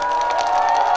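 A dense outdoor crowd of fans at a city concert during a fireworks festival in Ulsan roars and cheers loudly and continuously, a sustained wall of shouting voices.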